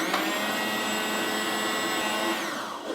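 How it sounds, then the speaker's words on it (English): A kitchen blender purees pumpkin with a loud, steady, high motor whine that holds for a couple of seconds, then winds down near the end. "Now we're going to blend up the rest."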